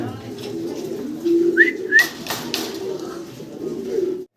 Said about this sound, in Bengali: ইয়েলো কালারের একজোড়া জার্মান শিল্ড কবুতর দেখতেছি